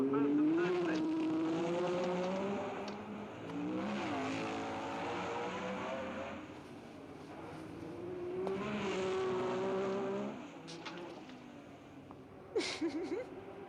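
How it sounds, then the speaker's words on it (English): Formula One cars, a BRM and a Ferrari, racing through the narrow streets of Monte Carlo, their high engines wailing and rising and falling in pitch as they pass, loud and sustained, with a commentator talking over them. "Stoddard can't quite squeeze his BRM past Sarti's Ferrari"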